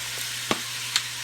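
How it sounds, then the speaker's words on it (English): Garlic hits a hot pot of smothered beef and fries with a soft, steady sizzle, with two brief clinks or stirs standing out, close and fairly quiet. "Throw my garlic in there."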